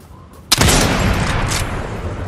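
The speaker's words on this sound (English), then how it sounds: "Oh, another shot." Gunshots in the video game Fortnite: a sharp close report opens a dense stretch of continued firing and rumbling battle noise that stays loud to the end.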